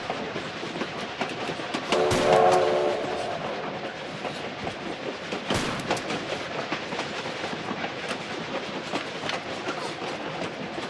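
Train running in Tomb Raider 4 Remastered, a steady rumble of rolling wagons with rhythmic clatter, a horn-like burst near the start and another loud swell midway, continuous and close throughout.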